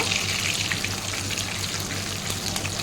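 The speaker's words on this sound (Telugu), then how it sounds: "ఇలాగా బాగా ఫ్రై చేసుకోవాలి గోల్డెన్ బ్రౌన్ వచ్చేవరకు" Prawns and fish frying in hot oil, a steady dense crackle and sizzle that runs unbroken and close throughout, with no voices.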